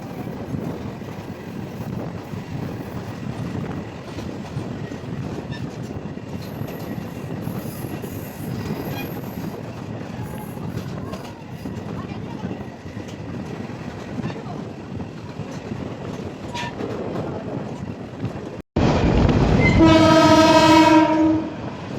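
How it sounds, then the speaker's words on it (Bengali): The Probal Express passenger train runs from Chattogram toward Patiya with a steady, close rumble of wheels and carriages, then a loud, sustained horn blast near the end. "তো আমাদের ট্রেন অলরেডি তার প্রথম যাত্রা"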